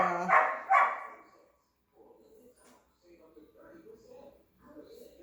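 Several dogs bark in a room, with a puppy among them: two loud, close barks open the clip, then softer yips and whimpers continue faintly over a low background.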